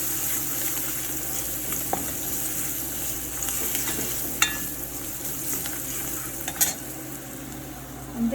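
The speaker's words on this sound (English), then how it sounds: "Let that fry up a little bit with the curry." Saime fries in a pan with curry, giving a constant low sizzle broken by occasional clinks and scrapes of a utensil stirring, fairly close and unaccompanied by voices.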